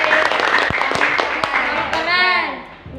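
Schoolchildren in a classroom clap for a classmate, brisk close applause with sharp hand claps, and a voice rises over it near the end.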